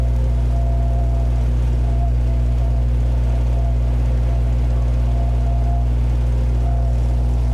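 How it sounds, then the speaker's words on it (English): Midget Mustang light aircraft engine running at full power for takeoff, a steady, loud, droning roar with a constant low hum that fills the whole stretch. "There he goes, full power."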